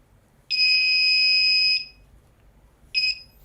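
A handheld security metal detector sounds over metal: a loud, steady high-pitched electronic tone lasting over a second, then a second short beep after a pause.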